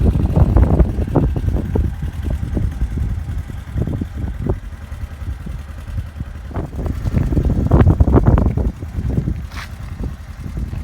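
A 2020 Polaris Ranger Crew 1000 SOHC UTV drives while towing a trailer loaded with bikes, its engine a steady low rumble with bursts of wind buffeting the microphone, loud and close throughout.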